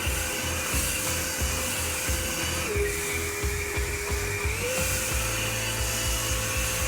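A Greenworks 80V backpack leaf blower runs on cruise control with a loud, close, steady whooshing whine, its pitch dropping briefly midway before settling back to an even roar.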